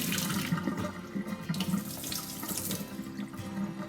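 Tap water pours into a jar to rinse sprouting mung beans and sweet peas, a continuous close splashing with light sloshing and gurgling, without any talking.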